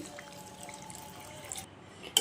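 Water pours steadily into a pot of country chicken for curry, with a soft rushing splash, then cuts off, followed by a brief clink near the end.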